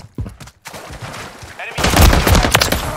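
Rapid automatic gunfire in the shooter game Call of Duty: Modern Warfare III rattles in dense, loud bursts, with shorter shots at first and a sustained barrage after a brief gap, a voice briefly heard alongside.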